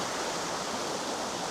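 Icy waterfall in Shenandoah National Park, heard as a steady, loud broadband rush of falling water beside a creek that stays constant without a break.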